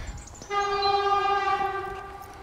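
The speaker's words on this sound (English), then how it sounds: "they have to sound the horn when they're by the level crossing over there" A train horn blares near a level crossing beside a caravan and motorhome club site, one steady, loud, sustained chord that starts abruptly and holds for about two seconds.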